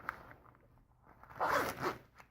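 A zipper is drawn along a chest pouch, a short rasping run that swells in the middle and tapers off, quiet and close with no talking.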